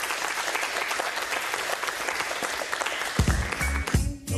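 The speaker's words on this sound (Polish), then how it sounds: "Brawa dla nich!" A studio audience applauds the guests of a Polish show: brisk, dense clapping that stays steady, then fades in the last second as a low voice and a thud come in.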